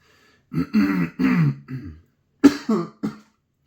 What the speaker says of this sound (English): A bit of a cough, as usual.